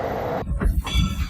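Reading and Northern 425 train backing in along the tracks, a loud steady rumble with a high metallic wheel squeal that cuts off, then lower rolling clanks and rumble, close and with no voices.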